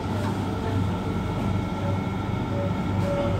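A Sentosa island train runs with a steady, loud rumble and rolling rail noise, and faint tones rise now and then above the continuous drone.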